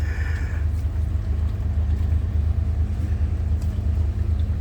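Four outboard engines on a speedboat near Phi Phi, Thailand, run with a steady low, droning rumble that fills the whole stretch, close and continuous, with no talk over it.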